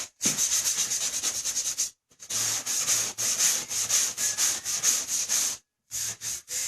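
Block sanding of body filler over a car door ding gives a run of rapid, rhythmic scratchy strokes, close and fairly loud, broken by two brief pauses before the rubbing resumes.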